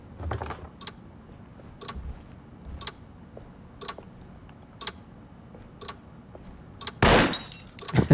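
Glass shattering in the video game Alone in the Dark (2005): one loud, sudden crash of breaking glass near the end, after a series of quiet, regularly spaced ticking clicks.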